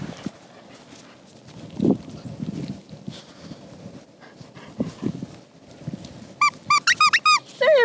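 Squeaky dog toy squeaks in a quick burst of several sharp chirps near the end, after a stretch of quiet shuffling and a soft bark or huff while a Siberian Husky and a Rough Collie play with a new toy.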